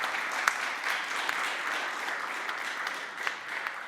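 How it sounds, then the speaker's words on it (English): An audience applauds after a conference talk on AI agents, a steady moderate wash of clapping from a room full of people, with a few sharper individual claps standing out. "Please give him a round of applause."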